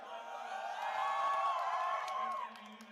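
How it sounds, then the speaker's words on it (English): A crowd at a Pokemon UNITE India Open 2022 esports finals cheers and whoops, a steady wash of many voices swelling and then dropping away, with faint clapping mixed in. "Everyone, huge round of applause."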